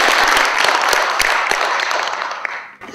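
A crowd at a radical Black and Third World book fair meeting gives loud, sustained applause with dense overlapping claps that slowly thins toward the end.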